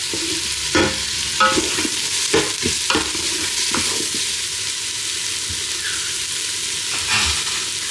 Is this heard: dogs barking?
no